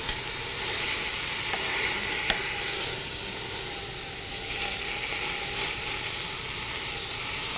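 Onions sautéing over medium heat in a pan for Cuban sandwiches make a steady, moderate sizzle and hiss with a couple of faint utensil taps, close and continuous with no talking.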